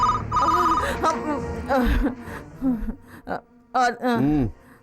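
A phone ringtone chimes at the start, then voices talk over and around it, loud and close.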